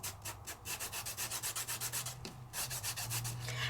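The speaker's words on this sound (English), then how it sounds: "when I'm burnishing it with my finger" Paper burnished firmly with a fingertip while stamping with Nellie's Choice dies, a close, rhythmic rubbing of quick strokes repeating steadily with a brief pause in the middle, no voice present.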